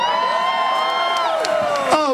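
A crowd at the Wigstock drag festival cheers and whoops loudly, with sustained high-pitched shouts layered over a continuous roar, close and unbroken for the whole stretch.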